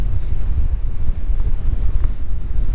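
Storm wind buffeting the microphone on a beach during Storm Dennis, with surf crashing underneath in a loud, gusty, continuous roar.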